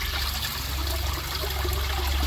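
Waterfall water poured into a container already holding water, giving a steady close trickling and splashing flow that continues evenly throughout with no voices.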